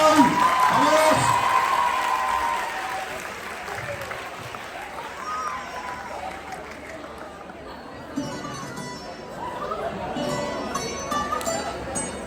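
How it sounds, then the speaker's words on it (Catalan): An audience at a secondary school end-of-year ceremony applauds students with strong sustained clapping that fades into crowd chatter, with voices and cheers rising again later. "un fort aplaudiment per aquests alumnes"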